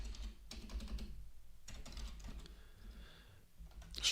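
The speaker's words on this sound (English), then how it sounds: "So I'm going to type in linked list," Java code is typed on a computer keyboard, producing faint, fairly steady key clicks under a soft background hiss, without talking.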